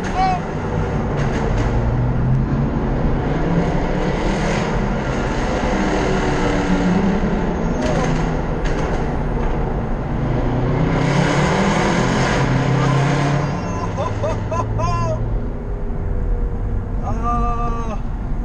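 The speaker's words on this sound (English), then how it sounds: "Through the tunnels, so prepare for the AMG sounds." A Mercedes-AMG car engine drones loudly through road tunnels, its steady roar rising and falling as the car accelerates, with the sound echoing off the tunnel walls.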